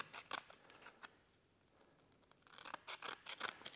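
Scissors snip through abrasive pad material, cutting it into small squares for blending a seam weld on a custom roadster bumper; close, crisp cuts in two bursts separated by a quiet pause, with no talking.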